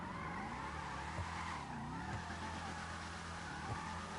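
A car drifting around corners in a GTA drift mod video game, with a steady engine drone and long, wavering tire squeals that rise and fall through the turns. The sound is continuous and loud.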